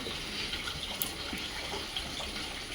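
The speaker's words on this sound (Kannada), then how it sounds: "ಅದೇ ನೀರು ಇವಾಗ ಸಂಪಲ್ಲಿ ಬೀಳ್ತಾ ಇದೆ" Rainwater from a rooftop trickles and splashes steadily into an underground sump, a faint, continuous close-up patter of falling water with no talk.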